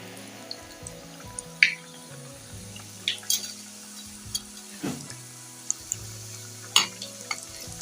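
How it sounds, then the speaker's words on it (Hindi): Food fries in hot oil with a soft, steady sizzle, broken by occasional sharp pops and the scrape of stirring or turning, close and quiet, with no talk. "अब शुरू करते हैं फ्राई करना।"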